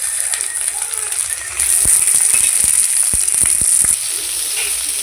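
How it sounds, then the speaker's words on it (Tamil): Chopped tomatoes hit a hot pan of softened onions for a Madurai brinjal curry and sizzle loudly. The frying hiss is steady and swells partway through, with faint scraping stirs. "இப்போ நறுக்கி வச்சு தக்காளியை போட்டு"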